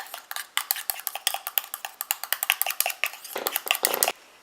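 A utensil clinks and scrapes rhythmically against a container while stirring a homemade night cream mixture made with red fruits, quick repeated taps, close and fairly loud, with no talking.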